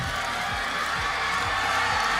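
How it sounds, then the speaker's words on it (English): Crowd noise swells and cheers steadily through a lead climbing final in Koper, a dense continuous roar of spectators with occasional whoops, loud and sustained throughout. "The crowd is cheering every single move she makes here."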